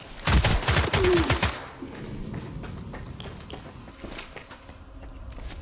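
A rapid burst of gunfire in the video game STALKER 2, loud and close for about a second, followed by quieter clattering and scattered impacts.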